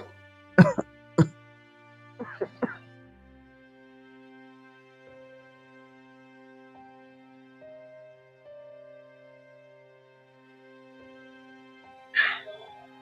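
Several sharp coughs in quick succession, then a couple more, and one final cough near the end, heard over soft sustained background music tones.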